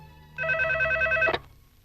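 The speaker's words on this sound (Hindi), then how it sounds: "रिंग हो रही है।" Telephone ringing in a Hindi dubbed horror thriller film, a single short electronic ring burst of about one second standing alone in a quiet room.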